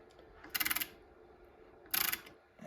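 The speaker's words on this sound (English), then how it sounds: "Now tapping of the holes." Hand taps from a Bayer set cut threads into holes in a steel lathe spider, giving two short bursts of rapid metallic clicking separated by a quiet pause.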